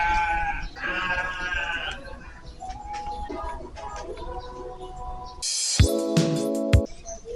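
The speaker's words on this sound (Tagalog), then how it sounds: "Maghihingay na yung kambing dun." Near the end a loud goat bleat rings out, wavering for about a second, after a stretch of mixed background sounds and voices on a motorcycle ride.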